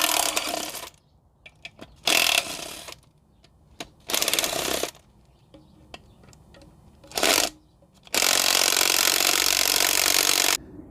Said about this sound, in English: Let's remove the bolts.